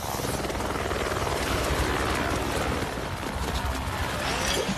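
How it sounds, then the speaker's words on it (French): Steady chopping rotor noise of a helicopter in an animated cartoon, loud and continuous throughout, with no talking. "Il nous faut un hélicoptère."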